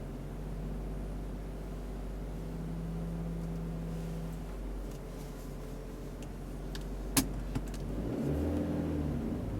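A car on a learner's driving lesson pulls away with a steady low engine hum, then a sharp click and a shift in engine tone as it changes from first to second gear.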